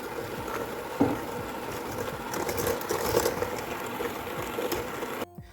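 An electric hand mixer runs at low speed, blending milk into whipped batter for chocolate cake layers; a steady motor whir with a soft rattle plays continuously, then cuts off near the end.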